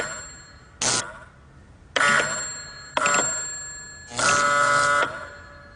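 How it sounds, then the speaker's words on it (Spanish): A wireless receiver's electric bell rings in four separate bursts, three short and one longer, each a bright, metallic ringing tone with quiet gaps between. "si presiono este botón, suena la campana del receptor"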